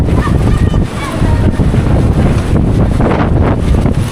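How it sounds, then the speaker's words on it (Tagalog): Loud, continuous roar of heavy, storm-driven surf at San Miguel in the Philippines, with strong wind buffeting the microphone; waves crash and surge throughout without pause. "Grabe lakas ang alon"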